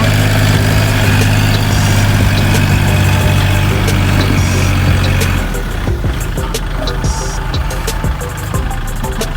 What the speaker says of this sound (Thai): วันนี้ขอเสนอเป็น รถแท็กเตอร์คูโบต้า32 แรงม้านะคะ